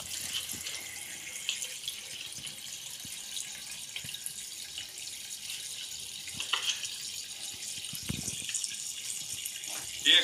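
Tap water runs steadily into a sink while something is rinsed off at home, a continuous close hiss with occasional small clatters and faint voices in the background.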